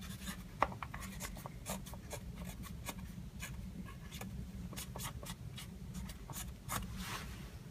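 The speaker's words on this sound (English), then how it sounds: "Use the dirty pens to label the cassette package with your initials," A pen scratches across a dental instrument cassette package label in steady short writing strokes, close and fairly quiet over a low steady hum.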